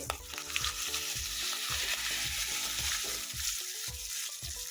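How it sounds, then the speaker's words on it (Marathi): Ground spice paste fries and sizzles steadily in a pan for kadhi, with a spoon scraping and stirring in regular strokes, close and continuous. "आता आपण वाटून घेतलेलं वाटण घालू त्याच्यामध्ये।"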